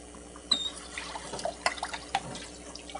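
Water sloshes and splashes in a press as it is rinsed and shaken by hand, giving faint, irregular splashes, drips and small clicks against a quiet background.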